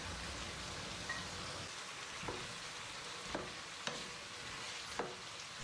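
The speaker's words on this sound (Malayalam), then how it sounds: "നമ്മുടെ ഉരുളക്കിഴങ്ങ് ചെറുതായിട്ട് വാടുമ്പോൾ തന്നെ നമുക്ക് സവാള ഇട്ട് വഴറ്റാം" Potatoes and onion sauté in olive oil in a small pan, a soft, steady sizzle with a few light scrapes from stirring spaced a second or so apart; quiet and without speech.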